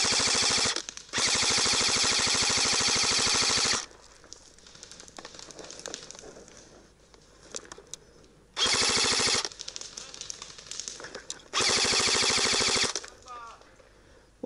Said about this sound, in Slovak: Niekto začne po mne strieľať.